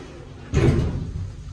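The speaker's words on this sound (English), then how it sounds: "Door slam." The door of a 1990s Pickerings lift in a town centre car park slams shut with a single dull thud, followed by a brief rumbling decay.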